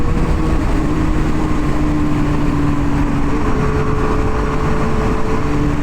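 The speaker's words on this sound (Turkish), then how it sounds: "Yani 125 cc için böyle bir yapılı motor için fena değil gidişi" Riding downhill at about 120 km/h on a Regal Raptor Pilder 125 cc motorcycle brings a steady, loud engine drone under constant wind roar, with a slight pitch shift midway and no voices.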